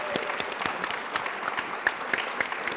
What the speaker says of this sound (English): Can we give our panelists a big round of applause?